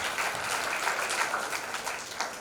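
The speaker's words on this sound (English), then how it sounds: "I think they deserve a round of applause for their unturning efforts." An audience at a school Annual Day event applauds, a dense, even patter of many hands clapping continuously at moderate distance.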